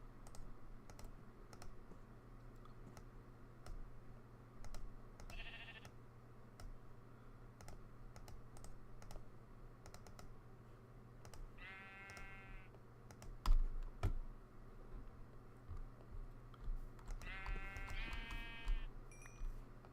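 Sheep in a Civilization game let out several short bleats, faint and spaced apart, two of them near the end, over steady computer keyboard typing and clicking.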